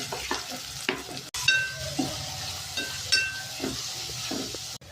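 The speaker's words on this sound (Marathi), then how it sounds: "आपण कढईमध्ये तेल घेतलेलं आहे आणि आता आपण यात कांदा भाजून घेऊया" Chopped onions frying in oil in a kadhai, a soft steady sizzle broken by scraping stirs of a spatula against the pan, close and fairly quiet.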